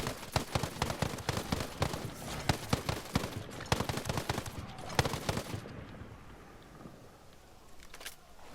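Rapid gunfire in a shooter video game cracks in dense bursts and scattered single shots for about five seconds, then fades to quieter distant pops and ambience, with no speech.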